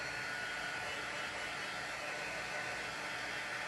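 A hair dryer blows steadily and loudly at close range, drying a Dollar Tree chalkboard decoration, a constant broadband whoosh with no talk.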